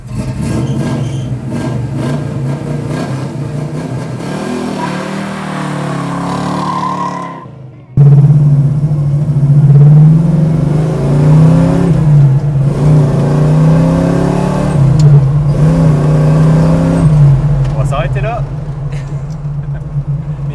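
A 1968 Pontiac GTO muscle car accelerates hard on a road test, its V8 engine droning and rising through the gears, with a brief drop at a shift, loud from inside the cabin while people talk.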